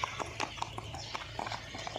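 Rhythmic clip-clop of a mare's hooves striking the ground in quick, regular beats, fairly faint and near, with a little background voice.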